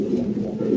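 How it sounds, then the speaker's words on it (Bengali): A brief, low, rolling coo from fancy pigeons on a farm, close and steady, with no voices. "পুরা খামারের কবুতর,"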